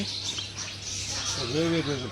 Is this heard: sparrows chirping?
yes